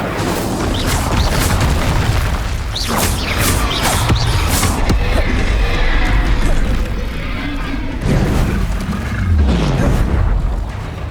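Incendio fire spell cast in the Hogwarts Legacy video game, giving loud booming blasts and crackling bursts over a busy, dense layer of game combat sound.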